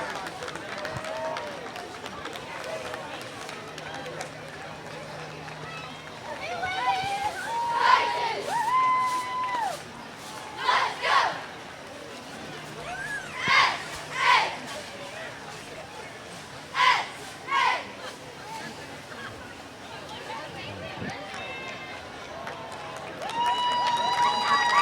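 Cheerleaders cheer and shout loudly at a school homecoming parade, with bursts of crowd yelling and whoops rising and falling over steady outdoor street noise and voices.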